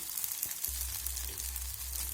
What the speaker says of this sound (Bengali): বাকিগুলো একই রকমভাবে আমি ভেজে নেব।